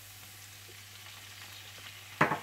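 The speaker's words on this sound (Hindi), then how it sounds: "जैसे ही लहसुन थोड़ा सा फ्राई हो जाए तो आप इसमें डाल दें सोया सॉस" Garlic sizzles steadily in a hot pan, a soft continuous crackle that bursts into a sharp, louder hiss near the end as soy sauce hits the oil.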